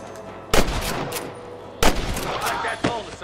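Gunfire in the Western video game Red Dead Redemption, three loud, sharp shots spaced about a second apart, each followed by a short echoing tail over a low ambient background.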